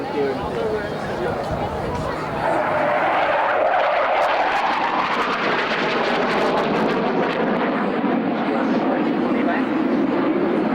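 A swing-wing jet roars past at high speed, near the speed of sound, at the Biggin Hill millennium air show, a loud continuous rushing jet noise with a shifting pitch, and a voice talks over it throughout.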